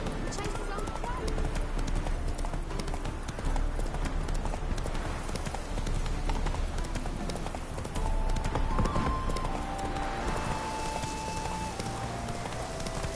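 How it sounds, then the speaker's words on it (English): A horse in the video game The Witcher 3 trots with a rhythmic, continuous clip-clop of hooves under a voice talking throughout. "Whoa there, Roach."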